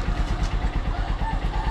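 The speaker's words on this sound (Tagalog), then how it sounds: "yung pagpapaandar ng Honda Supremo, lalong lalo na pag umaga" A Honda Supremo motorcycle engine idles after a cold morning start, giving a steady, close, low, rapid putter with an even pulsing rhythm.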